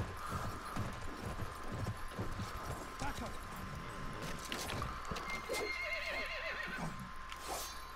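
Horses neigh and whinny in the Battlefield 1 game over steady clip-clop hoofbeats, with a player talking over the game sound throughout.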